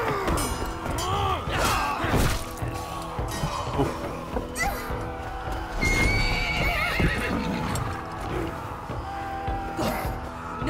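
A horse in Assassin's Creed Valhalla neighs and whinnies loudly over steady clip-clopping hooves, mixed with other thumps and background game sounds.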